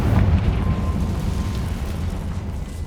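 A Confringo spell blast in the video game Hogwarts Legacy: a loud, deep, rumbling explosion that roars from the start and slowly fades over a few seconds.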